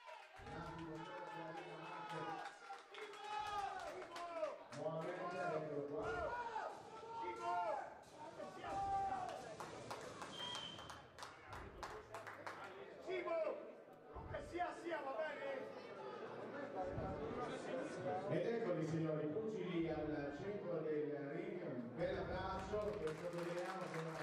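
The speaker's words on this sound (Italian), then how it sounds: "Bello l'applauso di tutto il pubblico." Crowd at a boxing memorial event (Memorial Duran) applauding and cheering after a long fight, a steady wash of claps and chatter filling the hall, with commentators talking over it throughout.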